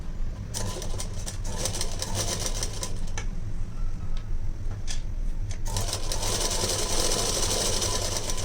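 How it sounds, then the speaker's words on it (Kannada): A sewing machine with a side foot stitches a blouse lining with piping thread inside, running in fast whirring bursts broken by short pauses, loud and close with no talk. "ನೋಡಿ ಹಿಂಗೆ ನೀಟಾಗಿ ಸ್ಟಿಚ್ ಹಾಕ್ಕೊಂಬಿಡಿ."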